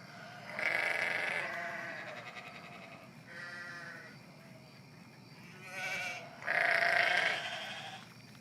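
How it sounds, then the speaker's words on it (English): Several sheep bleat in turn, wavering calls with quiet gaps between them; the last bleat is the loudest and nearest. "Can you help Tansy count the sheep"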